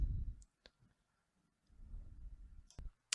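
Computer mouse clicks while adding a page in a Moodle course, a few sharp, distinct clicks spread across a quiet stretch with faint low rumble between them, close and crisp.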